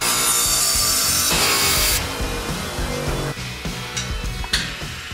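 Power saw cutting through a metal intercooler pipe section for a 1997 7.3 OBS Powerstroke build, a loud continuous grinding rasp close up that drops in pitch and intensity midway, with brief bursts of cutting toward the end.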